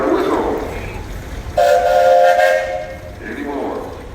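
A steam traction engine's whistle sounds in one clear, steady blast of a couple of seconds at an outdoor parade, rising out of murmuring crowd and background noise before fading away.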